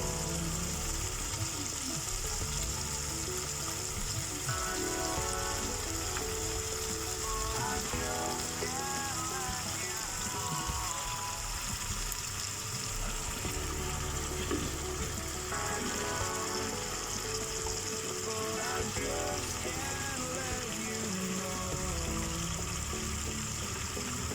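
Chicken pieces are added to a pan of fried masala whose oil has separated, for palak chicken. A steady, close sizzle and crackle of frying runs loud and continuous throughout, with faint scraping and no speech.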